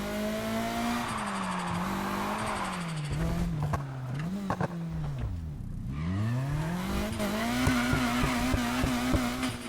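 A 1996 Nissan 180SX Type X in NFS Heat drives with a steady, loud engine drone that dips and swells through gear changes and throttle lifts, then climbs again as it accelerates.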